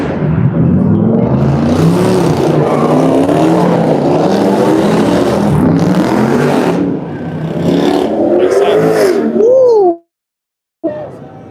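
A truck engine revs on a downtown New York City street, a loud, close, wavering growl with shifting pitch that holds for several seconds, then cuts out abruptly before a brief return.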